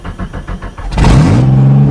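A farm vehicle engine cold-starts in freezing weather: a few rhythmic cranking pulses, then it catches with a loud burst and settles into a steady, close rev.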